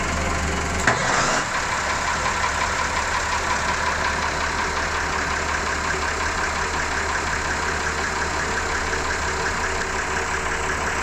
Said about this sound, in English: And now if I could ask you to do the port engine for us.